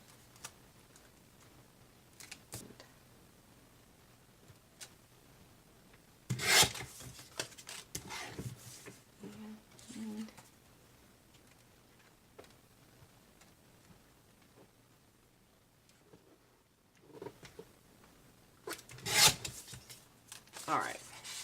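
Layered sheets of paper being cut, with quiet intermittent snips and rustling scrapes spread over a long stretch and a few louder bursts of handling.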